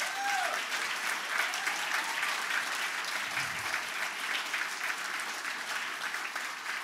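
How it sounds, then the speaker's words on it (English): A rally crowd at a Veterans Day 2021 event applauds for speakers in a continuous, fairly distant wash of clapping that holds steady without fading. "Give them another round of applause."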